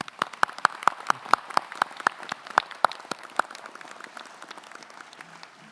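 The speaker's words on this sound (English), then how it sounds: "Why don't we give him another round of applause?" Scattered claps from an audience at a Massey University graduation ceremony ring out sparsely in a large hall, a few distinct hand claps tapering off into quiet murmur.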